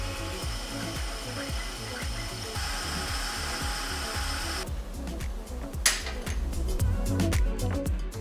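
A milling machine grinds and chatters steadily as it cuts sheet metal in a rapid repeating rhythm, with a harsh hiss that drops away partway through.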